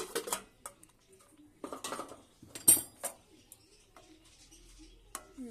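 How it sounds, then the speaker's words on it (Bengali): Spinach curry being stirred in a pan, heard as scattered metallic scrapes and clinks in short bursts separated by near-silent gaps, close and fairly soft. "এবার এটাকে নেড়ে দেব।"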